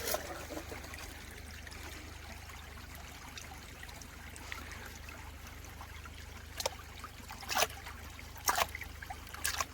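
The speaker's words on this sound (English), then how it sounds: "Take some practice doing the one-handed panning with the Garrett Super Sluice." Gentle water trickles and sloshes steadily while a large Garrett Super Sluice pan is worked one-handed in a creek during gold panning, with a few sharper splashes and knocks near the end.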